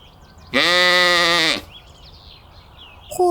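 A sheep lets out a single loud, close bleat lasting about a second, followed by quiet with faint calls in the background. Another bleat begins just at the end.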